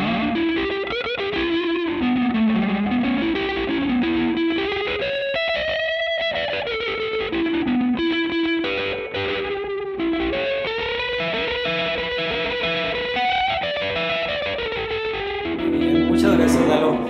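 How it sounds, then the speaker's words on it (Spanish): A Torino electric guitar from Italia Guitars plays a sustained melodic line with heavy distortion through a Storm 100-watt amplifier, loud and continuous, notes bending and ringing with a thick, saturated tone. "Te voy a pedir que nos muestres cómo suena la distorsión con esta guitarra."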